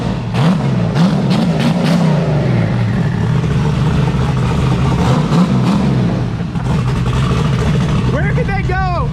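A turbocharged Chevrolet Camaro street car engine revs loudly nearby in repeated rising bursts over a rough idle, with people talking over it and a brief whine near the end.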